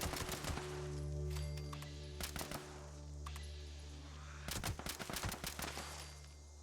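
Gunfire in the online game Fallout 76 during an event with a Scorched Beast: sharp shots in clustered bursts, some rapid like automatic fire, over a steady low game ambience and drone, with quieter gaps between volleys.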